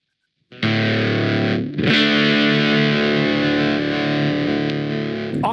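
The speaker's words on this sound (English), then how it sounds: "You hear a slightly octave up, something like the what was it? Octavia, Roger May Octavia" Electric guitar through a Kemper Profiler Octashaper effect adds an octave-up, fuzzy edge to a sustained chord, struck once and then re-struck, ringing loud and steady with no talk.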